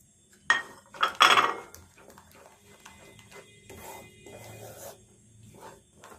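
A spoon scrapes and knocks around a metal pot while thick ground Gobindobhog rice paste is stirred continuously, with a few louder clanks early on followed by softer, steady scraping and bubbling.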